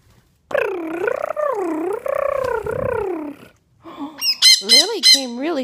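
An upset pet bird lets out loud, harsh squawks up close: a long run of wavering, gargling cries, a short pause, then a burst of sharper, higher squawks.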